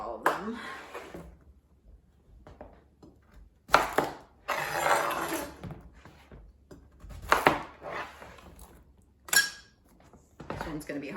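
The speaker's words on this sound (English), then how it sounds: "I'm gonna cut them all and then I will scoop the guts out of all of them" A knife cuts open small pumpkins in a series of irregular crunching, scraping bursts separated by quiet gaps, close and moderately loud, with a voice speaking at times between cuts.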